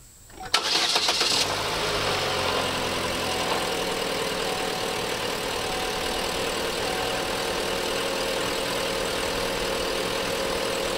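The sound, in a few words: car engine starting up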